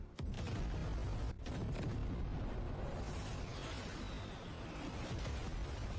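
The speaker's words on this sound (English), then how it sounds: "Fire cannons." Cannons fire at a ship in a dramatized battle: two sharp, loud blasts come at the start, followed by a heavy, continuous rumble of explosions that fills the rest of the moment.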